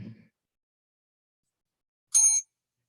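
A single bicycle-style bell rings once, bright and clear, for about a quarter second in an otherwise silent room, with a faint low knock just before it.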